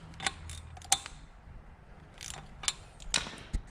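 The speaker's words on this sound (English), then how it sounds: "I'll take a 9 socket" A 9 mm socket on a ratchet tightens the valve jam nut on a small Chinese pit bike engine, giving faint, close clicking ratchet pawls in a few short, spaced bursts against a quiet workshop background.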